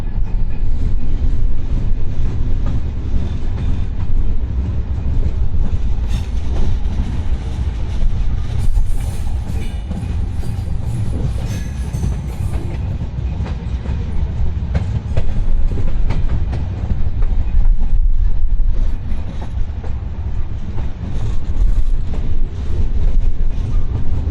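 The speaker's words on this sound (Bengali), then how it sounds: "বারোটা পঞ্চাশ মিনিটে আমাদের রূপসী বাংলা এক্সপ্রেস ট্রেন নড়াইলে প্রবেশ করতেছে নড়াইল রেল স্টেশনে" The Rupashi Bangla Express rolls into Narail railway station, a loud continuous rumble of wheels and carriages with rhythmic clatter and occasional metallic squeal, heard from aboard or close beside the train.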